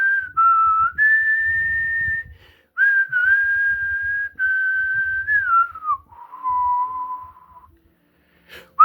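A tin whistle carries a clear, pure melody of sustained notes with short breaks between phrases, loud and close over faint low background sound.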